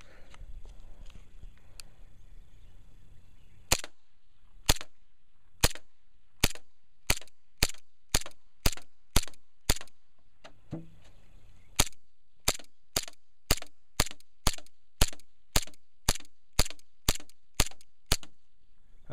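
An HFC M9 (M190) pistol is fired at a target 50 feet away, about two dozen sharp, evenly spaced cracking shots in two strings separated by a short pause.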